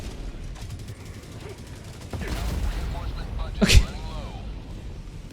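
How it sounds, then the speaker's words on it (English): Artillery barrage explosions in Helldivers 2 during a solo fight against Automatons: a rumble of distant blasts builds, then one sharp, loud impact hits near the end, with someone speaking briefly over the din. "I don't often use this barrage."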